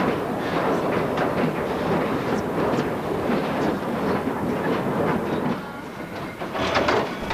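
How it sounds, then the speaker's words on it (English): A small 1890-built tourist train in Australia's Blue Mountains rumbles steadily along the tracks with rhythmic clatter and wind noise, continuous and fairly loud throughout. "This little train was built in 1890 and was first used to transport coal from a mine"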